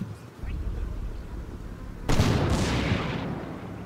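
A sudden burst of heavy video-game gunfire from a tank hunter team erupts partway through, loud and sharp, following a low rumbling background of distant combat noise.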